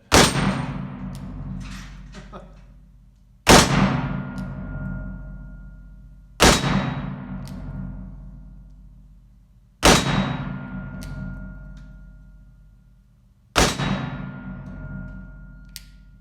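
Five loud, sharp shots from a Pietta Colt 1861 Navy black-powder revolver at an outdoor range, spaced about three seconds apart, each with a long ringing decay and a metallic clang as the rounds strike steel targets.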